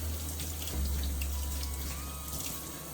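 Tap water runs steadily over peeled cassava being washed, a continuous splashing stream with a low hum underneath and no talking.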